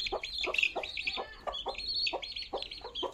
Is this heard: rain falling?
no